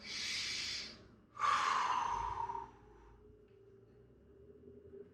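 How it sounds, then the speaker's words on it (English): Two slow, deep breaths during a mobility and recovery exercise: a long, airy exhale, a short pause, then a fuller breath in and out, close and clear, with quiet room tone afterward. "Another deep breath in, all the way out."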